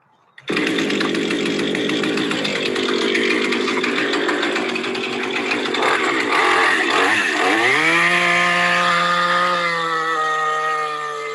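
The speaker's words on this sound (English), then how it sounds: "I'm just going to go over cut one log just to give a proper demonstration of how to keep the chainsaw level" A chainsaw roars steadily and close for about ten seconds while cutting through a log, its pitch dropping as the chain bites the wood, then revving up and holding a high whine near the end.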